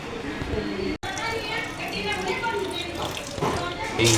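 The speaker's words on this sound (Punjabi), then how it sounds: "ਹੁਣ ਆਪਾਂ ਇਹਨਾਂ ਨੂੰ ਕਲੀਨ ਕਰਕੇ ਲਿਆਉਨੇ ਪਾਣੀ ਦੇ ਵਿੱਚੋਂ" Silver jewellery being rinsed in water, with a steady splashing, sloshing wash that runs throughout, broken by one sharp dropout near the start, and voices murmuring underneath.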